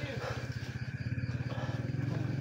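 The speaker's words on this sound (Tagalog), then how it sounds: "Sumay dumaan ang motor." A motorcycle engine rumbles close by and passes with a steady pulsing throb, while people talk over it.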